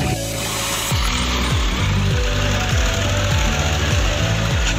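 A tractor pulling a trolley loaded with harvested wheat, its engine chugging loud and close in a steady, repeating labouring rhythm with no talk.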